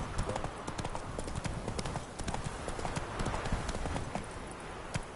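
Roach, a horse in The Witcher 3 video game, trotting with a quick, steady clip-clop of hooves, fairly faint and continuous, with no voices over it.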